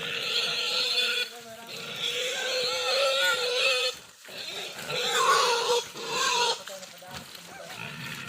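A pig squeals and grunts loudly at close range in repeated bursts, with a brief pause midway and people talking faintly underneath.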